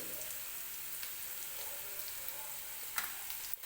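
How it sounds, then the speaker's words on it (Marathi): Turmeric frying in hot oil with roasted tomato for a cabbage bhaji, a faint, steady low sizzle with a couple of sharp crackles near the end. "आपण आता थोडीशी हळद टाकणार आहे मी तेलामध्ये"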